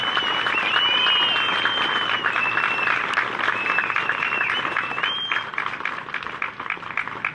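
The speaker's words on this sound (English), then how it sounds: "Applause, please." Crowd applause at a Veterans Day Out event in San Jacinto, a sustained, loud clatter of many hands, with a whistle-like tone riding over it early on before the clapping thins slightly.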